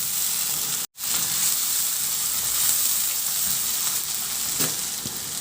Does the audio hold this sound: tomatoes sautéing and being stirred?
yes